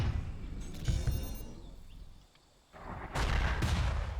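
Mortar fire and explosions in the Forts strategy game: dense bursts of booming blasts and crackling impacts, a brief lull midway, then a loud new volley of detonations.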